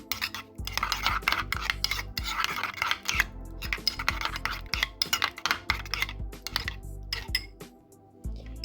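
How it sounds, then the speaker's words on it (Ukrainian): A spoon clinks and scrapes rhythmically against a small bowl while stirring pizza sauce mixed with Italian herbs, close-up metallic taps and rubbing, no talk. "Перемішуємо це все разом."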